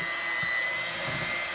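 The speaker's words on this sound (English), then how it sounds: "now I'm going to come in with the hand mixer" An electric hand mixer blends butter into a banana nut bread batter, giving a steady, loud motor whir that runs without pause for the whole moment and has no talk over it.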